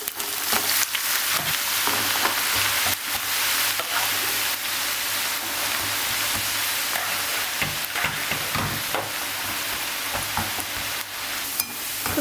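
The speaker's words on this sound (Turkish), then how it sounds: "Isınan yağın içerisine havuçla patatesleri atıp kızartıyorum." Potatoes and carrots fry in hot oil with a loud, steady sizzle and crackle, close up and continuous, with occasional stirring clatter and no voices.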